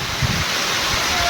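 Strong wind gusting through a sudden downpour of heavy rain outdoors, a dense, continuous roar buffeting close to the microphone for a brief moment.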